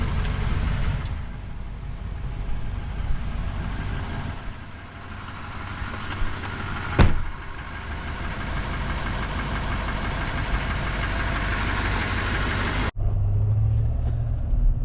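A car engine runs steadily and close by as a ride gets under way, with a constant low rumble and no speech, then one sharp knock and a brief drop near the end.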